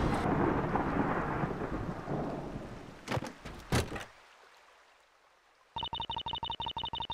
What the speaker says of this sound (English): You're lucky I'm even opening the door in the storm.